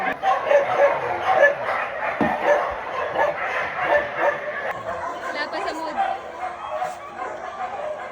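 Many street dogs bark, yip and whimper together in a busy, overlapping chorus that runs continuously and close up, mixed with human chatter.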